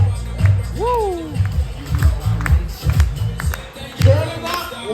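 A party crowd aboard the Ruby Princess cruise ship claps and cheers in scattered bursts, with a loud whooping voice and other voices over the noise.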